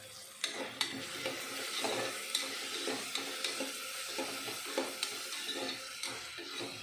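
Tomatoes and peas frying with salt in a pressure cooker for vangi bath, with a low sizzle and rhythmic spoon scrapes against the cooker recurring every second or so, close and fairly quiet.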